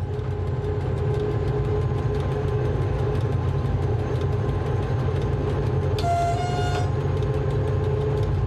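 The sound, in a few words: ONCF CC 72000 diesel locomotive accelerating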